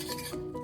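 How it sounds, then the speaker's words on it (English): A spoon scrapes through a thick cranberry mixture in a pot on the stove, a short soft stir ending in one faint clink against the metal side. "I'm making sure to mix it so that it doesn't burn on the bottom"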